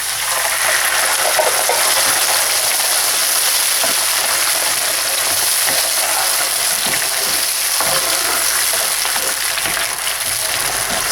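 Coconut milk going into a pan of softened onions for a Filipino fish curry, a steady, loud sizzle and bubbling hiss that fills the whole stretch with no one speaking.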